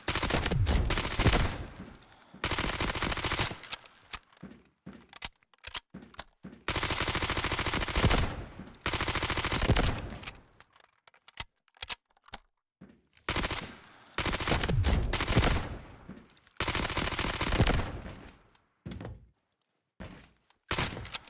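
Automatic bursts from an MP5 submachine gun in the GTA Online video game, loud rattling strings of rapid shots lasting a second or two each, separated by short pauses and quieter single bangs, with no talking.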